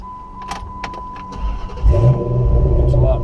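A Dodge car's ignition is cycled: a steady electronic chime and a few clicks, then the engine cranks and catches about halfway through, settling into a low, close idle.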